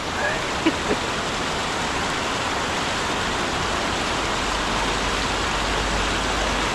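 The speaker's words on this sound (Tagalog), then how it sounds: "Ulan na yan, hindi na ambon." Heavy rain pours steadily at an old dam, a dense, even wash of noise without pause. A couple of faint voices are nearly buried under it.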